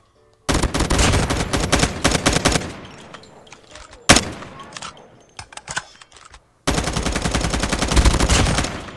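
Automatic weapon fire in Call of Duty: Mobile multiplayer, rapid sustained bursts of shots with a brief pause and a single sharp blast midway, loud and close, no talk.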